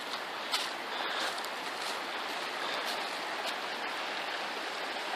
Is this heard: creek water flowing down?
yes